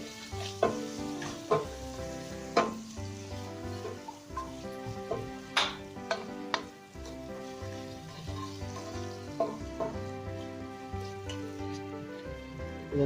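Two chopped tomatoes frying in a pan with a bubbling sizzle, while a spoon stirs and knocks against the pan in scattered clanks; close and steady with no talk.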